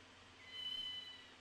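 A cat meows in the video game Ghost Trick: Phantom Detective, one soft, drawn-out call with a steady tone, faint and heard alone.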